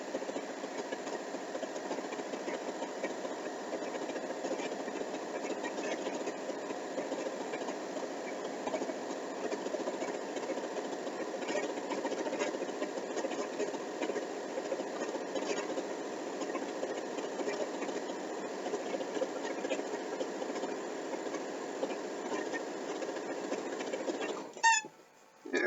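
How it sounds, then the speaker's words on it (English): Electric sewing machine running steadily as quilt strips are fed through for a queen-sized quilt, a continuous close mechanical hum and whir lasting throughout without pause, ending with a brief clatter. "Sewing strips."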